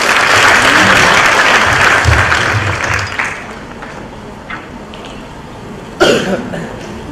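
An audience at a public lecture gives loud applause for the moderator. The clapping is dense at first, then thins and fades over several seconds, with a cough and a brief burst of sound near the end.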